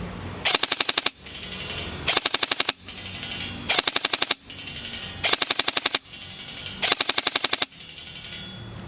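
A DTW-modified airsoft gun fires full-auto in a series of sharp, rapid bursts separated by short pauses, close and loud outdoors with no talk.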